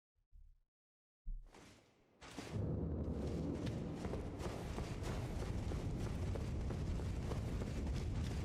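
In the game Elden Ring, a few brief thumps, then a loud roaring blast that swells into a sustained rumbling, crackling explosion filling the rest of the clip.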